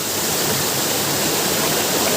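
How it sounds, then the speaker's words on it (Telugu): A waterfall pours between large hills in the agency area of Andhra Pradesh, India, making a steady, loud, broadband rushing roar that fills the whole stretch with no voices. "ఇదే ఏజెన్సీ నయాగార జలపాతం అనమాట నయాగార జలపాతం సూపర్ ఇంకా చూడండి ఎలా పారుతుందో"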